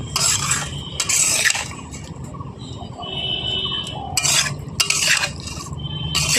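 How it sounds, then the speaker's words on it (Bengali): Raw rohu fish being mixed by hand with cumin and ginger paste in a bowl: wet squelching and stirring, with a few sharp clinks of metal against the dish at intervals. "তো দেখুন মাখাটা আমি কত সুন্দরভাবে মাখিয়ে নিচ্ছি"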